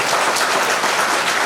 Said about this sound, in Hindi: और सभी महान भक्त हमारे एक बार तालियों से अश्विनी कुमार सुसैन